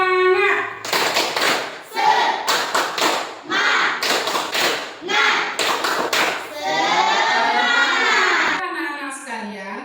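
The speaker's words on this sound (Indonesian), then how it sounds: "Tepuk semangat." Rhythmic clapping chant led by a teacher in an Indonesian classroom religion lesson, sharp hand claps in bursts mixed with children's voices chanting along, with some speaking between clap patterns.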